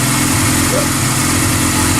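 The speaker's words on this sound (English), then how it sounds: "Now you can let the bike warm up." A motorcycle engine idling during warm-up, a loud, steady, close rumble that holds constant throughout.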